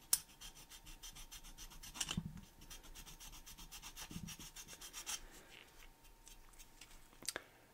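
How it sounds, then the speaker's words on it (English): Quiet, steady rasping of a file across hardened putty on a 1:32 scale diecast Monte Carlo model car, with a few louder scrapes standing out and no talking. "I guess we could just file off the bottom"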